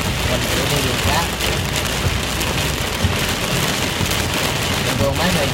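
Heavy rain pours steadily onto a road, a dense, continuous hiss of drops with a low rumble underneath, close and loud throughout with no break.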